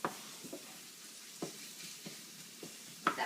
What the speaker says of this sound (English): let that brown up a little bit longer